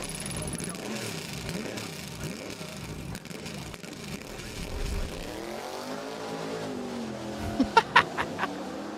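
Cheetah race car with a fiberglass body and a big Chevrolet engine at the Goodwood hillclimb, its engine revving and roaring past with rising and falling pitch and a few sharp bursts near the end, under commentary.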